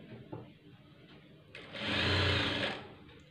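A sewing machine stitching a blouse runs in a loud, steady burst of about a second after quieter handling sounds, with no talking.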